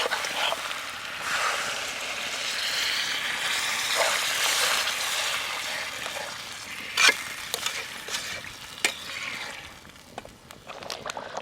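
Mutton being stir-fried kosha-style in a pan, a hissing sizzle rising and falling as it is stirred, with a few sharper scrapes and clinks toward the end, no speech.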